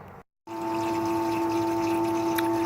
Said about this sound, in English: you can see we got the pump going